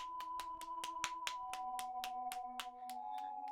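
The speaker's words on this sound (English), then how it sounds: "The clear sound of applause echoes across the dark runway." Applause in the Robotics;Notes video game, steady evenly spaced claps, fairly quiet, over a sustained droning tone, as if echoing across a dark runway.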